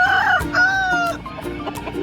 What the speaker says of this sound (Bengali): কেমন কেমন মুরগি নামে সবাই দেখতে থাকো